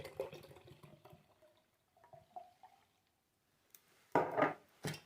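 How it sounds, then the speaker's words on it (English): Cool water from a can poured into a ball jar, a short loud splashing gush near the end after quieter handling clatter, followed by a brief second burst. "and then you're going to pour your can of water in."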